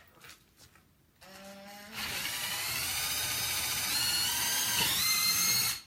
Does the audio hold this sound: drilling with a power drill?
yes